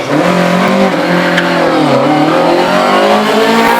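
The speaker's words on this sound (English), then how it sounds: "Roy Berry now with another twin cam powered machine, this time the Ford Escort Mark I." A twin cam Ford Escort Mark I race car with a big valve head accelerates hard up a hillclimb course, its engine note rising and shifting steadily, loud and close throughout with no talk.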